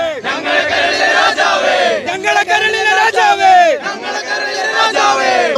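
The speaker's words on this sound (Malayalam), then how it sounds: "ആവേശഭരിതമായി വൻ ജനക്കൂട്ടമാണ് ഉസ്താദിന് അഭിവാദ്യം അർപ്പിക്കാൻ വേണ്ടി കാത്തു നിൽക്കുന്നത്" A large, excited crowd cheers and chants in repeated swelling waves of massed voices at a rally in Kozhikode welcoming leaders, loud and close throughout.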